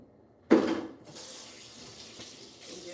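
Juicer parts rinsed under a running kitchen tap, a sudden gush of water hitting the pieces, then a steady, moderate flow with soft splashes as they are turned.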